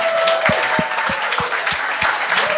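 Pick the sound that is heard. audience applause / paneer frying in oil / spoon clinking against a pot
audience applause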